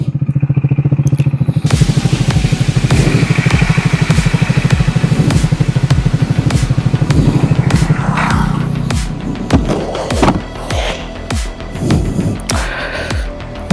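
A 400cc motorcycle engine idles in neutral with its radiator fan cycling, a loud, close, rapid even thumping that loosens into irregular, uneven pulses toward the end, with no talking.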